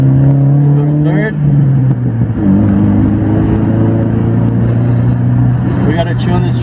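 A 2000 VW Jetta 2.0 accelerates in third gear, its engine drone rising steadily and loud from inside the cabin, with people talking over it.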